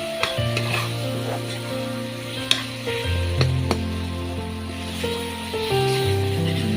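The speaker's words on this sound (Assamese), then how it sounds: "ভালদৰে বিলাহীখিনি ভাজি আছোঁ আৰু এইফালে মাছ ফ্ৰাই কৰি থৈছোঁ" Tomatoes fry in a pan for a fish curry, a close, steady sizzle with repeated scraping and clinking of a spatula stirring against the pan, over a sustained background hum.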